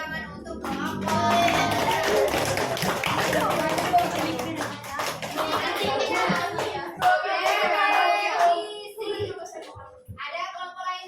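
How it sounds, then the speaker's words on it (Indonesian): A classroom group bursts into hand clapping for a team of students, a dense, close patter of many hands that pauses briefly and resumes, with a few voices mixed in and a final short burst. "Beri tepuk tangan untuk kelompok."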